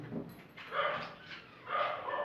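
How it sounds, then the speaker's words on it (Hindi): Dogs bark and yelp as they fight outside, with several irregular barks at middle distance. "कुत्ते आगे बाहर लड़ रहे हैं"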